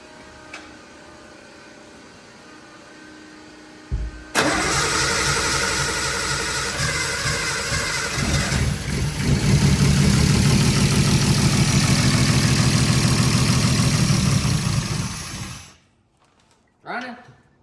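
A Nissan RB20DET engine with a full 3-inch stainless steel exhaust fires up for the first time after a few seconds of cranking, idling roughly, then revving louder before shutting off abruptly.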